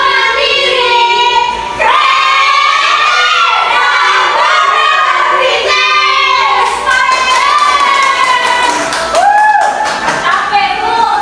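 A classroom of Indonesian schoolchildren shouts a song loudly in unison, with strained, yelling voices sustained almost without pause throughout.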